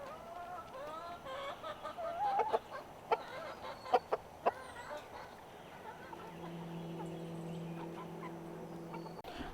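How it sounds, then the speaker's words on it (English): Homestead chickens clucking and calling in short bursts, fairly faint and a little distant, with a low hum creeping in toward the end. "the chickens will peck out the cucumbers and they'll eat those"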